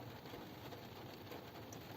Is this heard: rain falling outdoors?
yes